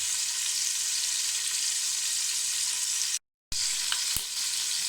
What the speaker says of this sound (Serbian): A onda ćemo posle da propržimo kupus na tom. Nek se ovo prži još na jedno 5-6 minuta